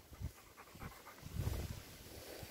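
A dog pants steadily nearby, quick rhythmic breaths with soft wind or room noise behind them, fairly faint throughout.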